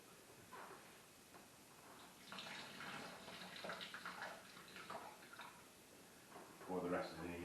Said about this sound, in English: Pour the rest of the boiling water in there